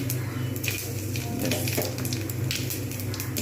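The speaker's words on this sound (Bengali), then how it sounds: "এই তেলের মধ্যে আমি শুকনো লঙ্কা আর গোটা জিরে আমি কিন্তু ফোড়ন দেবো" Dried red chillies, cut into small pieces, sizzle with whole cumin seeds in hot oil, giving a steady close crackle with sharp pops scattered through it.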